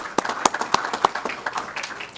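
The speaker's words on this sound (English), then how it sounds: "Let's give them a round of applause for the service they do." Applause for elected officials at a city council meeting: a small crowd claps in a light, brief, scattered patter indoors.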